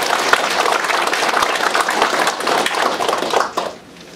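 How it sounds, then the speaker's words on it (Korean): Audience at a political rally applauding, a dense burst of clapping from a crowd indoors that holds steady for a few seconds and then quickly dies away, with no voices over it. "이정남 울산 지부장님 박수를 부탁드리겠습니다."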